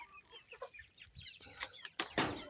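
Chickens cluck and murmur softly at close range, scattered calls over a quiet background, ending with a louder rustling burst.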